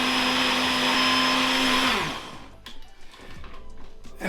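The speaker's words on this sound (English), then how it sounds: "my blender is grubby as hell" A countertop blender runs at a loud, steady whine, then winds down and stops, leaving quieter clattering and handling noises afterward.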